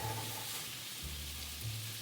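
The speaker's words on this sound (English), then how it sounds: "Ooh, hear that sizzle." Onions sizzle in olive oil and butter in a frying pan, a soft, even crackle that runs steadily and fairly quietly throughout, with no talking.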